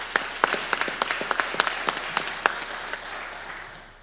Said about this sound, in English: Let's give Grant a big round of applause.